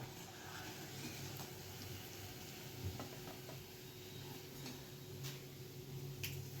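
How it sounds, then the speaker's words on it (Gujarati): Fafda, a Gujarati fried snack, frying slowly in fresh hot oil at home, giving a steady soft sizzle and bubbling with faint ticks and clinks throughout and no talking. "જો આવી રીતે હું આ બધા ધીમે ધીમે જો તળી નાખું છું"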